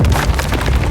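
In the Road to Valor: Empires strategy game, a volley of arrows produces a dense, loud whooshing clatter with low rumbling thuds, filling the short moment without any voices.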